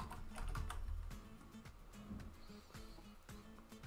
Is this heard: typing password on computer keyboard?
yes